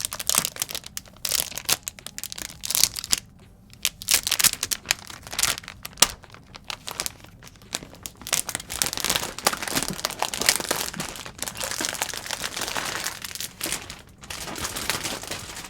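Packaging from a 2020 27-inch iMac crinkles and tears up close, with continuous irregular rustling and crackling bursts throughout and no speech.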